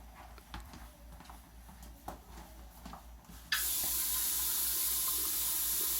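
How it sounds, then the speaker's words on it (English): Tap water at a sink during handwashing in a medical exam room switches on abruptly partway through and then pours as a loud, steady rush, after a quieter stretch of faint room noise and small clicks. "I'm going to take a quick moment to wash my hands, and I'll be right back."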